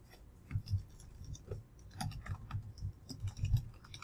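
Fingers type a username and password on a computer keyboard. Light, fairly close key clicks come in irregular bursts, with soft taps and a few slightly louder strokes scattered across a few seconds.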